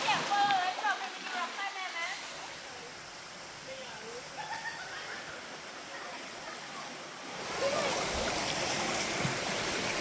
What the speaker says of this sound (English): And that's the river there.